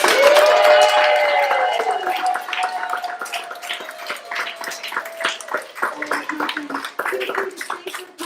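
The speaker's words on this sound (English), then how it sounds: "could we please give one more giant round of applause for all of our performers" An audience claps for student performers at an evening showcase. A crowd's scattered applause runs under a raised voice and cheering, then thins out toward the end.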